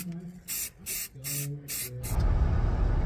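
A spray can applied in light passes on a 2014 Nissan Frontier pickup truck: several short, rhythmic hissing bursts, close and loud, with a voice talking between them, then a rumbling background.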